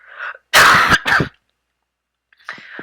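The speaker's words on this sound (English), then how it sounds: "I just coughed to cut that out." A single person's cough, loud and close, made of two sharp bursts, with short faint breathy sounds before and after it and silence in between.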